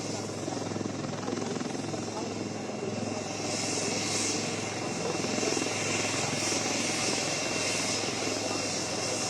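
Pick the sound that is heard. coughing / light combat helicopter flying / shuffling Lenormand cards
light combat helicopter flying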